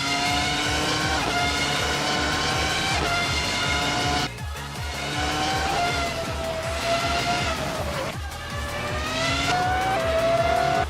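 Race cars in the rFactor racing game, with Formula-style cars on the Montreal and Barcelona circuits, scream past in loud, high-revving whines that rise and fall with gear shifts, several engines overlapping continuously.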